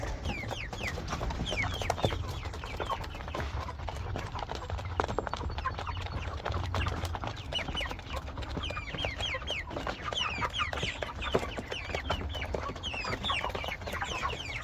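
Chickens in a barn feeding at a trough of freshly poured food, with steady busy clucking and scratching over a constant low background hum, no talk.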